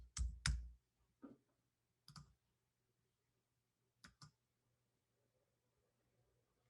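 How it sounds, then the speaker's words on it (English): Computer keyboard keys clicked in a few short, separate bursts, typing a short word; quiet and close with pauses between keystrokes. "And I'm just going to type in valve."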